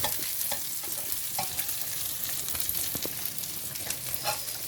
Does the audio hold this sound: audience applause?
no